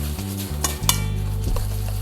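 Shredded coconut is stirred into frothy whipped egg whites for sugar-free macaroons, a few quick close scrapes and clinks of a utensil against a bowl over a steady hum, with no talking.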